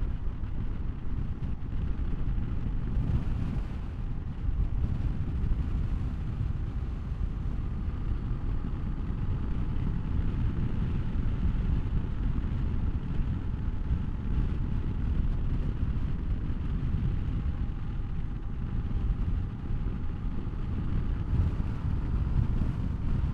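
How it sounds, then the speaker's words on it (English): Wind buffets the microphone while riding a 2023 Honda SCL500 motorcycle, a continuous low rumbling roar with steady engine drone underneath, no talking. "And it's really windy."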